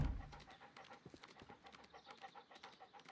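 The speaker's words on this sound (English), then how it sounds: "you hear his little panting?" A basset hound in the Sherlock Holmes Crimes & Punishments video game pants faintly and rapidly, a quick rhythmic series of soft breaths close by.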